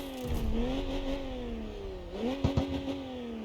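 A BMW M92 convertible in the CarX Street racing game revs its engine, a mid-pitched drone that rises, dips slightly, then climbs again with a couple of sharp blips near the end.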